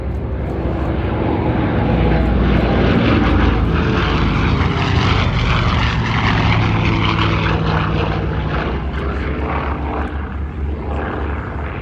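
A Red Bull Douglas DC-6B propeller airliner with 18-cylinder radial engines flies past at Duxford during the D-Day 80 commemoration. Its engines make a loud, sustained droning roar that holds steady for the whole stretch, with no voices.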